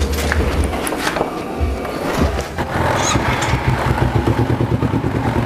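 A motorcycle engine runs steadily at close range, a low rumbling drone with some rattling clatter, loud and continuous throughout.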